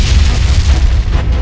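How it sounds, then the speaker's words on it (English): Deep, rumbling booms from big explosions in a Minecraft Lord of the Rings mod battle, a loud continuous low blast with no talk. "those are big explosions"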